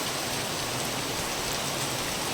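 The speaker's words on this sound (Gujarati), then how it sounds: "અત્યારે જે વરસાદ વળી તો ખૂબ જ ધોધમાર વરસાદ વરસી રહ્યો છે" Heavy downpour of monsoon rain on farmland, a dense, steady roar of drops hammering surfaces, loud and close throughout with no voices.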